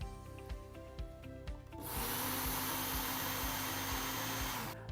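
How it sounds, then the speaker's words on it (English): Scissor blade drawn across the belt of a Work Sharp knife and tool sharpener, a quieter motor with clicks giving way to a loud, steady abrasive hiss and whine when the trigger is squeezed. "I'll squeeze the trigger, and I'll just draw across the belt"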